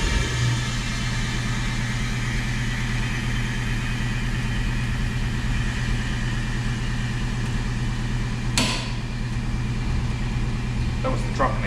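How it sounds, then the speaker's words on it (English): A 2003 GMC 3/4 ton truck engine idles close by in a steady, loud low rumble while the truck is raised on a Vevor 5-ton airbag jack, with a brief clank near the end. "That was the truck making noise, not the jack."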